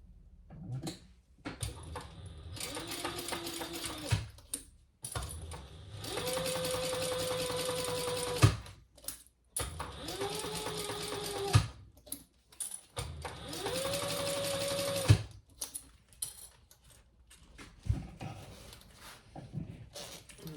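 A sewing machine stitches one seam of a fabric train case with a larger seam allowance, running in three sustained bursts of steady motor whir and rapid needle chatter with short pauses between, close and fairly loud.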